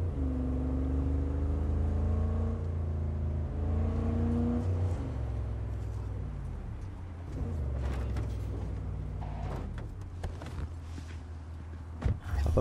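A car engine in the open-world game Cyberpunk 2077 hums and revs steadily, its pitch rising and falling as it accelerates, followed by scattered clicks and thumps from the game.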